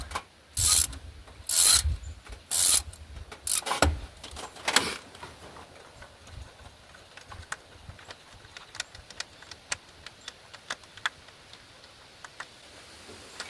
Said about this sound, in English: So what I'm doing right now is I'm unbolting the idler pulley.